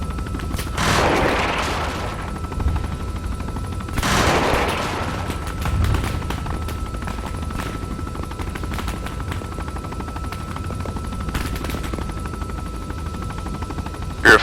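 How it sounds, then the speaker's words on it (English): Large caliber gun or cannon firing in a military video game: two heavy booming blasts a few seconds apart, followed by scattered fainter shots and a steady rumbling background. "there's either a large caliber gun or a cannon firing, possibly engaging you"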